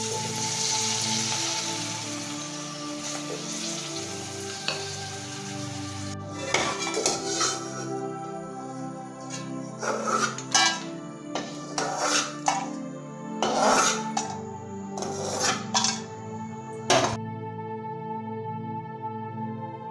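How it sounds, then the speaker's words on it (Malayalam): Pappadam fries in hot oil in a home kitchen, a steady sizzling hiss with bursts of crackling and spattering as pieces hit the oil, close and moderately loud. "ഞങ്ങൾക്കിതിലോട്ട് പപ്പടവും കാച്ചിയെടുക്കാം."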